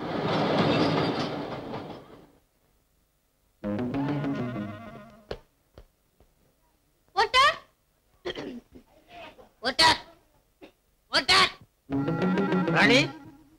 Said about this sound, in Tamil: ட்ரெயின் வந்துட போகுது.